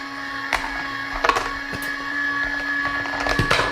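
A cheap toy pottery wheel's small motor hums steadily with a rattling, uneven wobble and scattered clicks and knocks, close and moderately loud.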